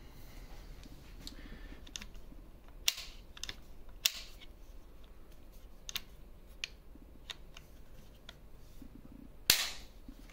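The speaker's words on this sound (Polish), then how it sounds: "jeżeli zrobimy to jednym palcem, no to właściwie zawsze ten klik będzie słyszalny" A CZ 527 Varmint rifle's safety catch clicks several times, sharp isolated metallic snaps at irregular intervals over a quiet background, close to the ear, with one louder click near the end.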